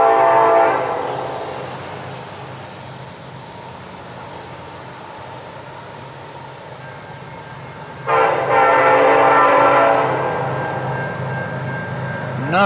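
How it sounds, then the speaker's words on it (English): Norfolk Southern train 208 passing through Jackson, Georgia, sounding a loud, near horn blast at the start and again later, with the rumble of the passing train steady in between. "Nice horn."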